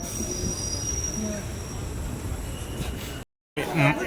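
A DEMU train running from Srinagar toward Banihal, its wheels squealing loudly and steadily against the rails close by, with a brief gap near the end.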